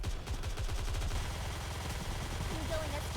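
Rapid gunfire in the mobile shooter game Nikke: Goddess of Victory, a dense, steady machine-gun stream of shots that continues without pause, with battle effects layered over it.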